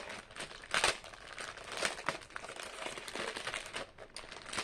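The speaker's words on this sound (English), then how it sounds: "sorry for the crinkling" Packaging crinkles and rustles steadily for several seconds, close and fairly loud, in a quiet indoor setting with no one talking.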